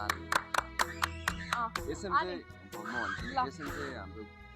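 Applause for a stage manager at a stage event: a burst of sharp claps at the start, then a voice speaking over lighter scattered clapping through the rest.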